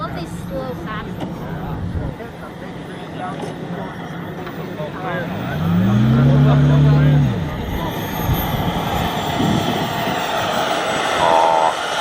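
A 66% scale BD-5 model micro jet makes a slow pass with its landing gear dropping, a steady engine whine rising and falling in pitch as it sweeps by, heard under continuous talk.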